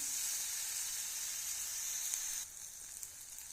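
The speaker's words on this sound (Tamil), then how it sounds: "ஒரு தக்காளி சிறுசாக கட் பண்ணி போட்டிருக்கேன் இதுவும் ரெண்டு நிமிஷம் வதங்கட்டும்" Chopped tomato sautéing in oil for prawn masala, a steady close hiss of sizzling that drops to a quieter simmer partway through, with no voices.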